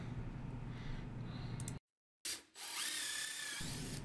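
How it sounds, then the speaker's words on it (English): An impact driver drives a carriage bolt into wood, a close buzzing run that stops for a moment, then resumes with a higher whining whir as the bolt seats, no talk. "I use an impact driver to secure it"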